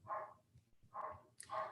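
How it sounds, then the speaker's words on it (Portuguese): A neighbor's dog barks three times at a moderate distance, each bark short and evenly spaced, with quiet pauses between them. "tem um cachorro da minha vizinha, tadinho, ele não para de latir."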